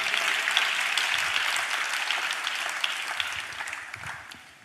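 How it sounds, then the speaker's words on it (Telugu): A church congregation claps together in a dense, steady burst of applause that carries on for several seconds before fading at the end. "అందరం చప్పట్లు కొడితే స్తోత్రాలు చెప్దాం."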